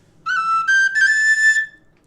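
A Compass High D tin whistle plays a short run of bright, clear notes rising step by step, each held briefly and sounding close and alone with no talking.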